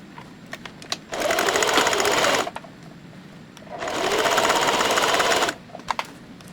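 A sewing machine stitches through a hat with a crochet piece partly removed, two steady bursts of rapid whirring separated by a short pause, close and clear with light handling clicks between.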